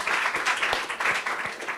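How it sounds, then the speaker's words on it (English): Brief, lively clapping from a lecture audience after an introduction to Pasolini's Medea, with individual hand claps distinct within the dense burst. "A round of applause."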